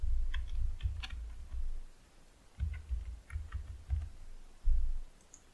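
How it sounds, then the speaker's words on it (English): Someone types on a computer keyboard nearby in quick bursts of distinct key clicks with short pauses between them, with no voices over it. "So here I'm going to type country."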